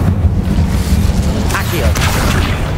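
An Incendio fire spell cast in Hogwarts Legacy makes a short rushing, roaring burst of flame over a steady low rumble, with a voice talking nearby.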